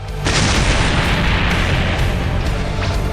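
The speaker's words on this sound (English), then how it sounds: "With that explosion" A loud, continuous explosion effect in an animated Dragon Ball fight: a sudden roaring blast that stays dense and rumbling, with no talk over it.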